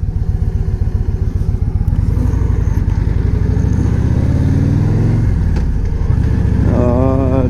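Motorcycle riding down Interstate 81 on a long weekend trip: a steady, loud engine rumble with wind noise close to the rider, shifting pitch near the end as the bike accelerates.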